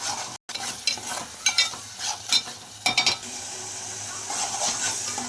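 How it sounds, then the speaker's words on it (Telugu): Onion and ginger-garlic paste frying in a pan for a potato and prawn curry, with a steady close sizzle under scraping stirs and occasional clinks of a spoon against the pan. "ఇప్పుడు ఇది కాస్త ఫ్రై అయింది కదా"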